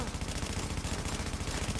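Heavy automatic gunfire in a video game, with rapid, continuous bursts of shots rattling on at a steady rhythm at moderate loudness.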